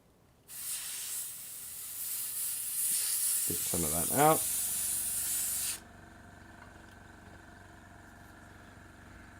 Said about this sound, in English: Whoa, I'm just spraying water everywhere now.